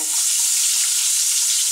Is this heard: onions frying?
yes